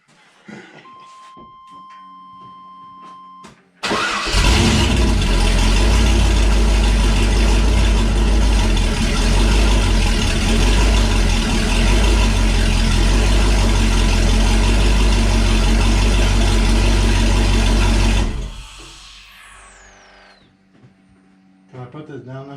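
A turbocharged LS V8 in a Camaro fires at its first start, roaring loud and steady for about fifteen seconds before cutting off, with quieter shop sounds before and after.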